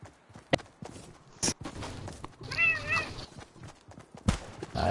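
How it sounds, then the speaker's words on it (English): A pet cat meows loudly and close up in a drawn-out, wavering call, amid sharp knocks and thumps from movement nearby. "That's my cat, Sadie's, everybody."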